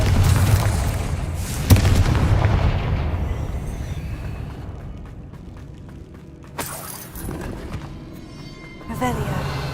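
Confringo blasting spell going off in the Hogwarts Legacy video game, with booming explosive blasts and crackling impacts over a rumbling game soundscape, several sharp bursts spread across the clip.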